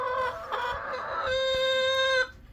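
A backyard hen clucks and squawks in a drawn-out, reedy, tonal call close by, loud and alone with no talk over it.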